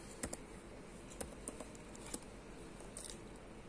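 Faint, sparse clicks of typing on a computer keyboard, a few scattered key presses over a soft background hum.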